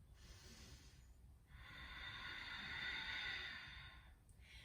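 Ujjayi yoga breathing with the mouth closed: a short soft inhale followed by a longer, hissing, throaty exhale of nearly three seconds, close and quiet with nothing else around it.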